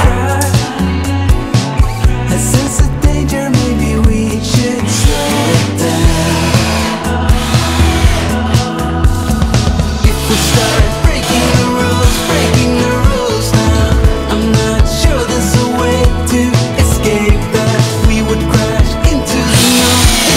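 Power screwdriver driving screws through wooden roof battens for a workshop heavy-duty shelf, a loud, continuous whirring motor with rhythmic pulsing and small tonal shifts as screws bite into the wood.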